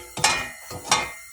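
Two short metallic clicks and scrapes as nuts are threaded onto exhaust bolts by hand while fitting a catalytic converter on a 2003 Toyota Sienna, close up with quiet pauses between.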